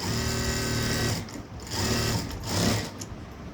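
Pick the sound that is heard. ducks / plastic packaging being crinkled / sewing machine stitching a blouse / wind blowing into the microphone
sewing machine stitching a blouse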